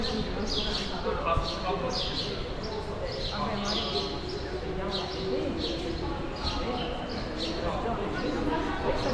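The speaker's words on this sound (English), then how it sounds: "First thing you hear is the birds." Birds chirp repeatedly beneath a terrace in New York City, bright short calls in irregular bursts over steady outdoor background noise.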